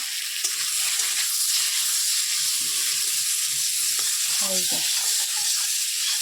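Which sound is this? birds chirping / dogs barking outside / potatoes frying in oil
potatoes frying in oil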